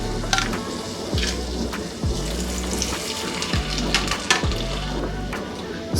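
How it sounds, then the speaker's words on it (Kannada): Water poured onto about 200–250 grams of jaggery in a cooking pot to start a syrup, a continuous close splashing trickle with small bubbling and clinking sounds. "ಒಂದು ಸ್ವಲ್ಪ ನೀರು ಹಾಕೊಳ್ಳೋಣ."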